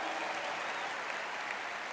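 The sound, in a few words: convention crowd applauding veterans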